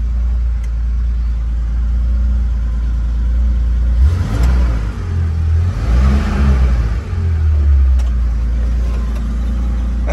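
A 1975 VW Westfalia bus converted with a Porsche 911 3.0 engine idles loudly with a deep steady drone, then revs hard twice in the middle before settling back to idle.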